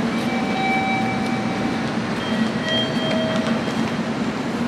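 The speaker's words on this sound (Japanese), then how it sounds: "列車が到着いたします" A train pulls into a platform at Hakata Station, with a steady loud rumble of wheels and carriages throughout and faint high squeals and tonal whines from the rails and brakes.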